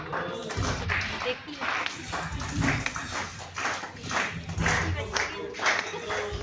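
An audience at a Republic Day celebration in a health care centre in Adhartal claps in a steady, rhythmic beat, with a voice talking over the applause.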